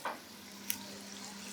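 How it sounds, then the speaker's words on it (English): Vegan ragu ingredients fry in oil in a pan, giving a steady, faint sizzle throughout with one brief tap partway through. "You see how it's frying"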